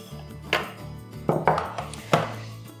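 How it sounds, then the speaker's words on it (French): Chocolate cake ingredients being mixed in a bowl, a few light scraping knocks and clinks of a utensil against the bowl, quiet and close. "Là, je vais un peu mélanger le tout."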